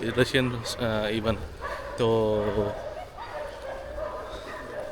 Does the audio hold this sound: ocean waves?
no